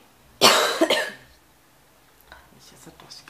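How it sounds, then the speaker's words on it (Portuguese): A single loud, close cough bursts out, followed by faint breathy sounds and small noises in a quiet room. "Deixa essa tosse"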